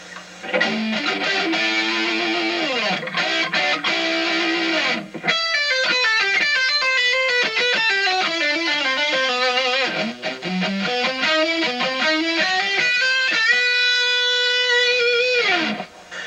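A distorted electric guitar plays a slow, sustained lick with bending, gliding notes and legato runs, loud and continuous throughout.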